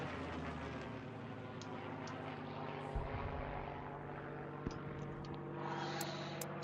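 Propeller warplane engine in the IL-2 Sturmovik combat flight game: a steady, moderately faint engine drone with a low rumble, continuous throughout with a few small clicks and no talk.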